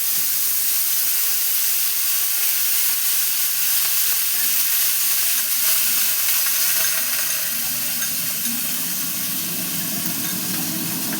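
Boiled onion paste hits hot oil tempered with cardamom and cloves, cooking for a katla fish rezala. A loud, even hiss carries through without a break and roughens slightly toward the end.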